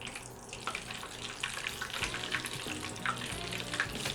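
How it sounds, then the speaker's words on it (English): Breaded chicken nuggets fry in hot oil, giving a dense, continuous sizzle and crackle with scattered pops, close and steady throughout. "So we'll fry up a couple of these beauties here."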